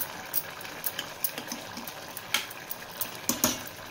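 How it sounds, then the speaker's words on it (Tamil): Water boils in a pot for rice, with irregular close bubbling pops and splutters over a soft hiss, fairly quiet overall. "இது நல்லா கொதிக்கிட்டோம்."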